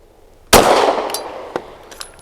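SAR 9C Gen 3 pistol firing a single sharp, loud shot outdoors, followed by a decaying ring and a couple of faint clinks, likely the spent case landing.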